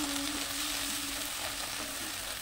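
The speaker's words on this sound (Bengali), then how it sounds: "মূলোটাকে অবশ্যই এরকম লাল করে ভেজে নিতে হবে" Radish pieces sizzle in hot oil in a pan, a steady, close frying hiss with faint crackles and a brief low hum, with no talking.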